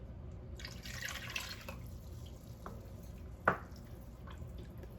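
Whole milk pours into a soup pot with a soft liquid trickle and a few faint splashes, then a single louder drip-like plop near the end, close but quiet, with no talking.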